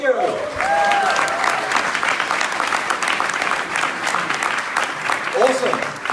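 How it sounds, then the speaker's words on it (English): An audience at an open source tech meetup applauds a speaker, a dense, steady burst of clapping that carries across the whole stretch, with a few voices briefly audible within it. "warm applause to Simon PHIPPS that's traveling a long way"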